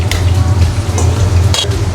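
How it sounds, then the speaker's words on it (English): Zucchini sizzles steadily in hot oil, a dense crackling hiss, with occasional utensil scrapes against the pan near the listener. "the zuccas have been frying away in an abundant amount of oil"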